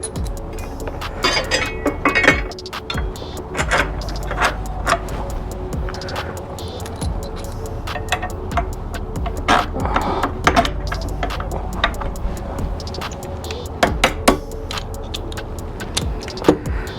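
Long bolts and washers clink and rattle as an HMF foot peg is fitted onto a Yamaha YFZ450R quad, with sharp intermittent metallic taps and jangles close by, separated by quiet handling pauses.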